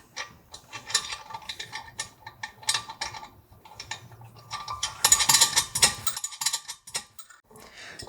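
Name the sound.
tightening nuts by hand on a SCHULZ compressor shaft seal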